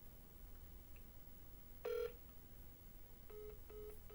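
A phone call disconnects with a short electronic tone. After a pause comes a quick series of repeated beeps. The tones are faint and isolated, with no talking.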